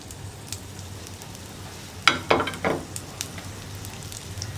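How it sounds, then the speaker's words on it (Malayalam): Ginger, onion and green chili drop into hot coconut oil and crackle, with a short burst of sizzling bursts up close followed by a steady low frying hiss, for a bitter gourd curry. "അപ്പോൾ നമ്മുടെ വെളിച്ചെണ്ണ ചൂടായിട്ടുണ്ട്. നമുക്കിതിലേക്ക് ഇഞ്ചിയും സവോളയും പച്ചമുളകും ചേർക്കാം."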